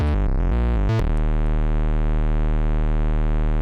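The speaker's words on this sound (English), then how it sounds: "We'll take the sine wave from this guy over here. See what that sounds like." Sine wave from a Pittsburgh Modular synthesizer oscillator, starting with a quick burst of stepped, changing pitches before settling into a loud, steady sustained tone that holds to the end.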